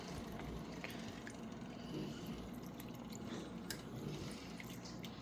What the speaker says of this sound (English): We need the broth. I'm just going to get started and see how far this fills up.